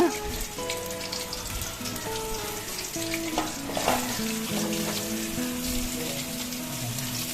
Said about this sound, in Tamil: நம்ம கட் பண்ணி வச்சுருக்க வாழைக்காய் இருக்குது பாருங்கள், அதை எல்லாமே தனித்தனியாக உதுத்து வச்சுட்டு நம்ம எண்ணெயில் போட்டு நல்லா ஃப்ரை பண்ணிப்போங்க.